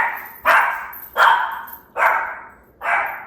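A dog barks four times at a steady, even pace, each bark loud, close and sharp, with no voices.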